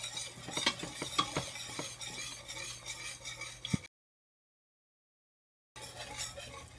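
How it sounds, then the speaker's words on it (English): Spoon scraping round a pan of roux turning into white sauce for chicken pot pie, cooked on low heat, with a soft rhythmic stirring over a gentle sizzle that drops out briefly and then resumes. "stirring it constantly on low"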